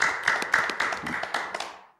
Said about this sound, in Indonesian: Beri tepuk tangan untuk Bung Eki